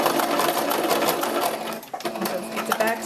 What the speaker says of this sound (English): we're leaving about 1 inch or more space from where the back seam of the hat is, and we're going to begin to sew